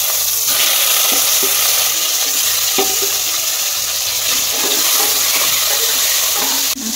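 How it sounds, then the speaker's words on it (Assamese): Aari fish frying in hot oil in a wok, a steady loud sizzle and crackle throughout with small pops, no voices. "তেল গৰম হৈ গ'ল, মাছকেইটা ভাজি লওঁ"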